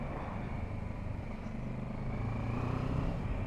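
Kawasaki Versys 650 parallel-twin motorcycle engine pulling steadily in second gear, a continuous low droning hum with rising revs, fairly loud and unbroken with no talking.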